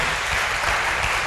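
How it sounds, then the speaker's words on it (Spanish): Audience in an auditorium applauding a doctor after a talk, a dense, steady wash of clapping throughout. "Un fuerte aplauso"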